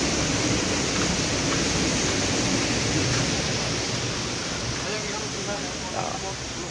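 Water pours over a dam in a steady, broad rushing wash that stays loud and unbroken throughout, with a voice talking faintly beneath it.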